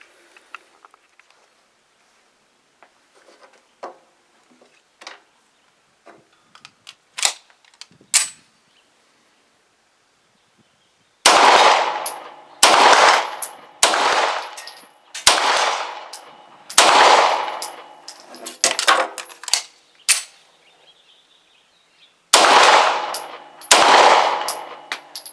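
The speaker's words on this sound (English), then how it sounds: "Let's shoot some rapid fire, or a match rapid fire." Rapid fire from a Beretta 92FS pistol: a few scattered shots, then bursts of sharp, loud reports in quick succession, a pause, and another burst, with no talking.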